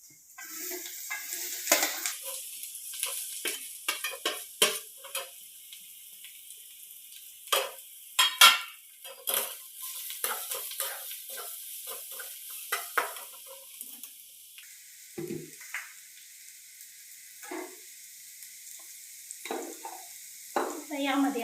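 Cabbage stir-fries with toasted cumin seeds in a pan, with a light sizzle under frequent scraping and clinking strokes of a spatula against the metal, irregular and close.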